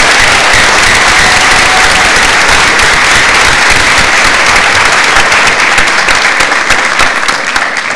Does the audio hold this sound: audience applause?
yes